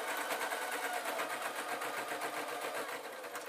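A sewing machine stitches a fabric zebra puppet in a steady, continuous rapid whir, close and fairly loud, running unbroken with no talk over it.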